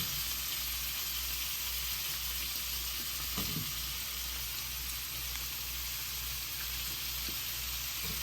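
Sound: chillies frying with curry leaves in a pan

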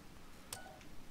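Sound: smartphone hacking beeps in the video game Battlefield Hardline

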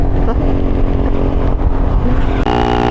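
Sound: loud motorcycle engine

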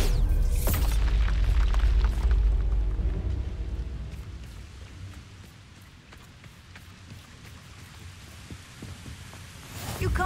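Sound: Bombarda explosive spell blast in video game Hogwarts Legacy

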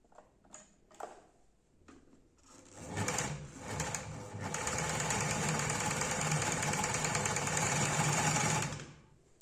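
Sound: hemming and basting sewing machine running

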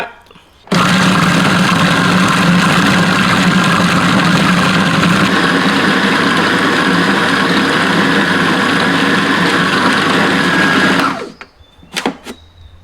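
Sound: electric meat blender running

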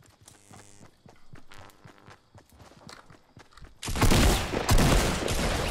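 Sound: gunfire in Fortnite video game

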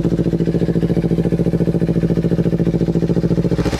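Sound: Kawasaki Ninja 250 FI motorcycle engine running

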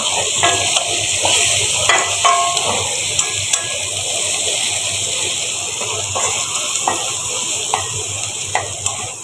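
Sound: frying spice paste with cumin and garlic paste

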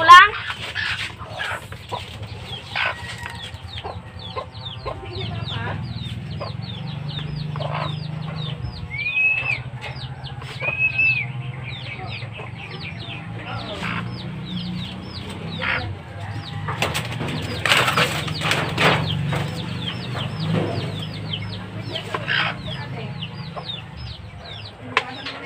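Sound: chickens clucking, a new gamefowl breeder

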